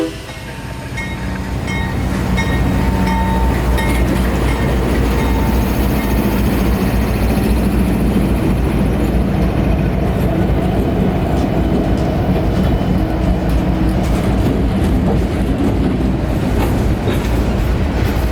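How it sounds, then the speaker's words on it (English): An ethanol freight train heard close by, building over the first couple of seconds into a loud, continuous rumble of rolling wagons and wheel clatter, with no voices. "the train was ready to head north"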